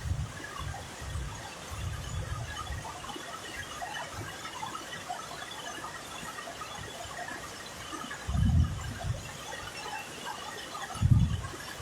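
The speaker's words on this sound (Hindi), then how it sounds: "आवाजें भी आ रही होंगी कि कितनी मूसलाधार बारिश ये हो रही है" Torrential monsoon rain pours down in Siliguri as the streets flood, making a steady, broad rushing hiss of falling water. Occasional low rumbling bursts rise through it and then die away.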